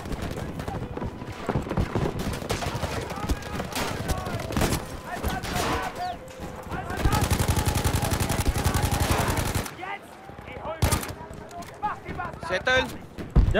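Heavy gunfire in Battlefield V, with repeated shots and a dense sustained burst of automatic fire in the middle, mixed with battlefield clatter while voices talk throughout.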